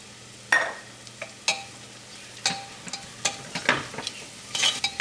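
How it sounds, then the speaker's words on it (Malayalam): Coriander powder frying in oil with ginger-garlic paste in a pressure cooker, stirred with a spoon: a soft steady sizzle broken by a series of scraping stir strokes, close and fairly quiet, with no talking. "അപ്പോൾ മല്ലിപ്പൊടിയും എണ്ണയിൽ നന്നായിട്ട് മുരിഞ്ഞിട്ടുണ്ട്."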